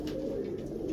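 A female pigeon coos while held in the hand, a soft low throaty cooing heard close and alone.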